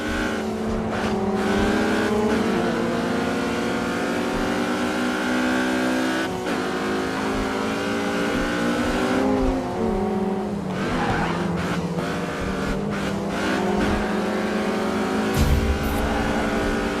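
Powerful sports cars race in the driving video game Grid 2, engines revving and shifting through gears while tires squeal and skid through corners, loud and continuous throughout.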